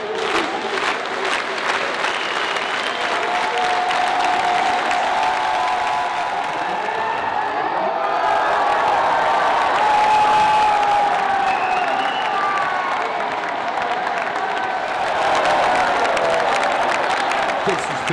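A large crowd applauds loudly and continuously, with a dense wash of clapping, scattered cheers and voices mixed into it.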